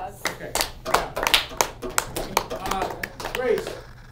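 A classroom group claps for a classmate, a scattered burst of hand claps running for several seconds with voices talking over and between the claps.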